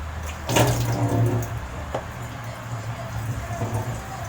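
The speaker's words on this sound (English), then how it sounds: "So by starting off opening your faucet and make sure not to wet your clothes." Water gushes from an opened faucet at a sink during medical hand washing, a fairly loud steady splashing stream that surges early and continues to the end, with brief knocks and clatter.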